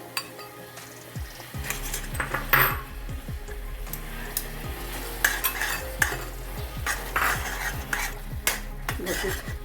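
A spoon stirs coconut, dry fruits and homemade cream together in a pan, making repeated scraping strokes with occasional metallic clinks over a faint sizzle.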